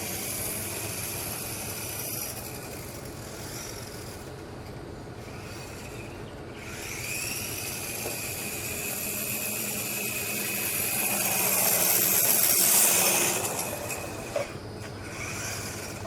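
An RC4WD Beast R3 RC truck fitted with a transmission conversion drives around, a continuous whining motor and gear hum that rises and swells toward the middle and then eases off, with no talking.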